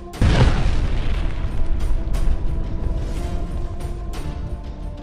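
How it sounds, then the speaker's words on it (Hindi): A car bomb explodes in a sudden loud blast, then a rumbling, crackling tail slowly fades over several seconds. "उनकी कार में विस्फोट हुआ।"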